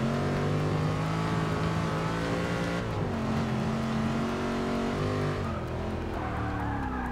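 A race car engine in Forza Motorsport 6 revs hard under steady throttle, a loud, continuous buzzing roar with pitch shifts as the revs climb, dip and climb again.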